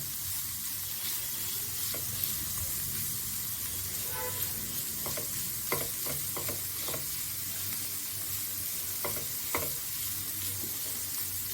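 Ingredients fry lightly in a pan, a soft continuous sizzle with scattered scraping stirs and clinks of a spatula, close and steady with no talk.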